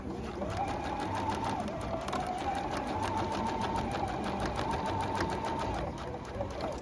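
A sewing machine stitches a seam on a reversible bag, its rapid needle rhythm running steadily and close up with a faint hum underneath.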